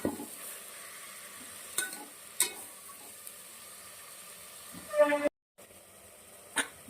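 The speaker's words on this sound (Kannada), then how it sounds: "ಈಗ ನಾವು ಟೊಮೆಟೊನ ಆ್ಯಡ್ ಮಾಡ್ಕೊಳ್ಳೋಣ. ಟೊಮೆಟೊ ಸಾಫ್ಟ್ ಆಗುವಷ್ಟು ಬೇಯಿಸ್ಕೊಳ್ಳೋಣ." Tomatoes fry with onions in a pan for a mixed vegetable curry, giving a faint continuous sizzle broken by a few scraping stirs of a spoon against the pan.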